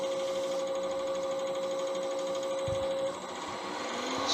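A wood lathe spins at high speed while a turned pen is buffed, giving a steady mechanical whir with a sustained tone, close up and with no talking.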